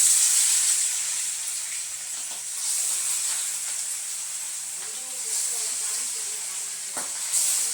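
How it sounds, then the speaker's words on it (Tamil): Fish sizzles in hot oil in a pan on a home stove, a continuous bright hiss that swells and eases in waves, with a few faint pops and stirring sounds beneath it. "இப்போ வந்து மீன் பொரிக்கலாம் ஃபுல்லாகவே போட்டு"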